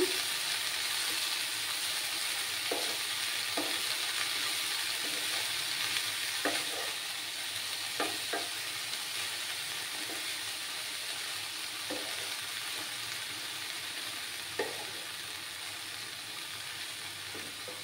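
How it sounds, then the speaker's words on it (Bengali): Food frying in a pan with Mourola fish and red spinach, a steady close sizzle throughout, punctuated by scattered soft knocks and scrapes of a utensil stirring the pan. "এবার একটু নাড়াচাড়া করবো আমি।"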